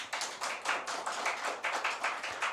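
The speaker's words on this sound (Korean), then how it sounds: "서준이 왜 박수 한번 해주세요" Church congregation clapping for a child named Seojun, a steady burst of many hands close and loud, filling the room without talk.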